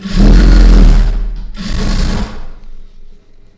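A sewing machine stitches a double-folded fabric edge at a quarter-inch margin, a loud close whirring run that pauses briefly, then resumes and trails off.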